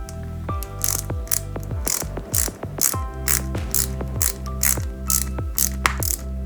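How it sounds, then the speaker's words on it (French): A flat-head screw being driven into a 1/8-scale Jaguar E-Type model kit gives a steady run of sharp ratcheting clicks, close and fairly loud, with no talking. "Et on n'hésite pas à serrer cette vis."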